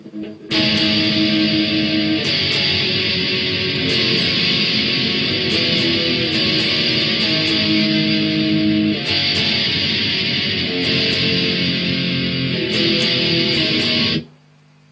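Guitar chords from a song's outro, strummed and left to ring out, notes sustaining and overlapping, with a few fresh strums along the way, clear and close, no talking.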